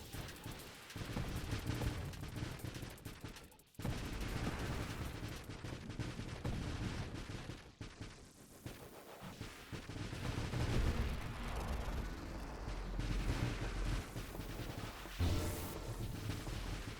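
Heavy weapons fire in an arcade-style shooter, a loud dense barrage of gunfire and booming blasts running almost nonstop, with one brief gap partway through.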